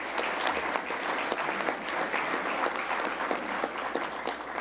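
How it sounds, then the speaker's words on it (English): Conference audience applauding a sponsor at a 2018 healthcare conference opening, with dense, steady clapping from many hands in a hall, lasting throughout and not accompanied by talk. "Give them a round of applause,"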